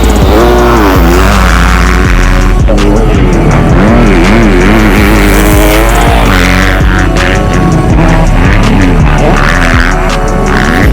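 A racing engine, from a rider on a bike considered wrong for him, revs loud and close, rising and falling through gear changes in a continuous, throbbing roar without pause.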